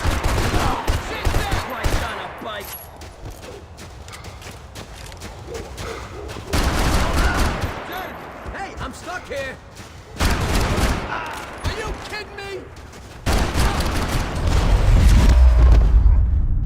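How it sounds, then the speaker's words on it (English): Gunfire erupts in a Max Payne 3 firefight over Hoboken, with bursts of rapid shots and heavy booms recurring through the scene while characters talk and shout over the shooting. "Gunfire over Hoboken."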